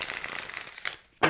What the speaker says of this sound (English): I love these cards, but they're so difficult to shuffle. They're so stiff.